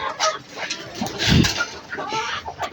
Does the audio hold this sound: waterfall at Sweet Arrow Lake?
no